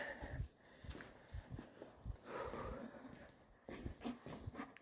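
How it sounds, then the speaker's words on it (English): Dogs in a workshop sniff, snort and shuffle close by, with short bursts of movement and faint whimpers against a quiet room. "Got our shop dogs."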